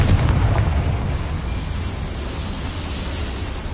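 A Confringo spell explosion in a video game: a deep, loud boom at the start that fades into a long rumbling decay.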